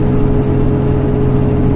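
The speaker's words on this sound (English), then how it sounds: "I lock it into a gear that I want it to stay in, and then spin the motor a little more, get it up the hill" An automatic truck's engine is held in a locked low gear and revved steadily while climbing a mountain highway grade, a loud, constant mid-pitched drone with a whirring edge and no speech.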